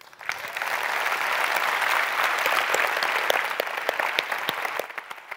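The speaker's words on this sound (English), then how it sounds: "Huge round of applause." Audience applause at a summit session on peace and conflict resolution: dense, loud clapping from a large crowd that swells quickly, holds steady, then thins out toward the end.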